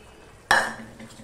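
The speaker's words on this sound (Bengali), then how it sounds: "দিয়ে সম্পূর্ণটা আমি মিশিয়ে নিচ্ছি ভালো করে।" A spoon scrapes and clatters once through a pan of fish curry with lentil dumplings, a sharp close knock followed by a softer wet swirl as the stirring fades out.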